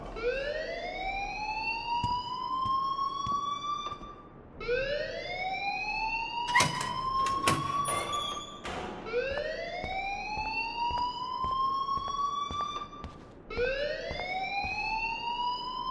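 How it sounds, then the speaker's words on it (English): A rising, wailing alarm in the video game Life is Strange repeats in regular sweeping cycles, loud and continuous, with a few sharp clanks and clatters in the middle. "please turn off that alarm since that's your job"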